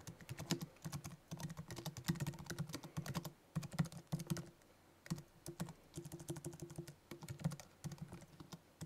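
Rapid typing on a Mac computer keyboard, with close, crisp key clicks in bursts and brief pauses between runs.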